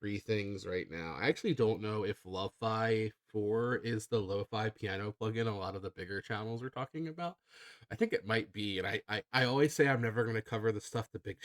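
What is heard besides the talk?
No everyday noise stands out behind the speech.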